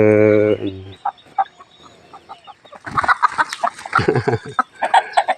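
Several chickens cluck and squawk close by in irregular bursts in a temple backyard garden, growing louder and busier toward the end, after a brief tonal sound at the start.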